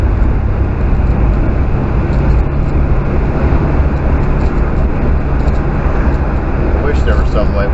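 A Daihatsu Atrai camper van's engine drones steadily as it drives along the road, a constant low rumble with road noise that stays even and close throughout.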